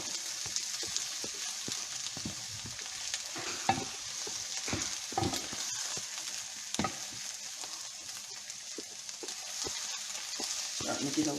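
Mushrooms fry and brown in a pan for cream of mushroom soup, giving a steady, close sizzle with frequent scraping and stirring knocks throughout.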